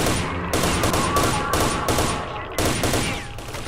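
Gunfire in the video game Stalker: Shadow of Chernobyl, a loud rattling run of rapid shots in several bursts separated by brief gaps.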